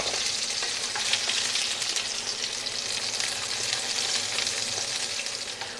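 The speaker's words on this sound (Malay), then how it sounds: "aku nak tumiskan dengan sedikit minyak bawang besar" Chopped large onion sautéing in a little oil in a pan, giving a steady, loud, dense sizzle that holds evenly throughout with faint stirring crackles and no voices.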